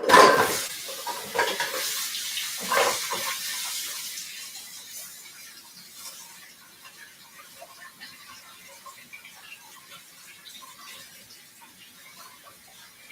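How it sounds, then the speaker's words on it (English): Juicer parts are rinsed under a running tap, with the water splashing loudly at first and then settling into a fainter hiss. "I'm going to rinse these out."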